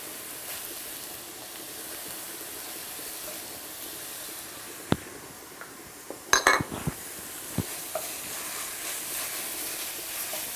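Lamb cooks in a hot pan for an orange-fleshed sweet potato shepherd's pie, with a soft steady hiss under scattered pan and utensil clinks and a cluster of clatters midway.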